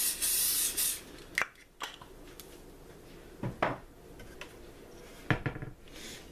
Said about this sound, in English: I'm going to spray it with a little canola oil.